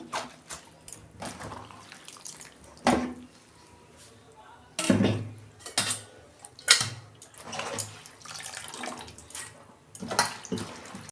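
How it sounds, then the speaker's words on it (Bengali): Finely chopped cabbage is washed in water, with repeated splashing and sloshing bursts up close and quieter pauses between, while someone talks over the washing. "এইটা আমি এই যে ভালো করে ধুয়ে নিচ্ছি"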